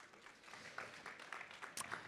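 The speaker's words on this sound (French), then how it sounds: "On peut l'applaudir." A conference audience at a public talk on water tensions claps to welcome a speaker. The applause is fairly quiet and loose, with scattered individual claps rather than a dense roar.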